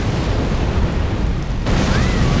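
Explosion in the video game Elden Ring, a dense, loud roaring blast that fills the whole clip, swelling slightly near the end.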